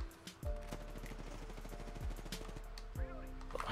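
Rapid automatic gunfire in the shooter game Apex Legends, repeated bursts of fast shots with deep thumping impacts and some chatter from players underneath.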